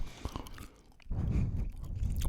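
Someone chews a cucumber close up, with wet crunches and biting sounds followed by a denser burst of mastication, with no speech.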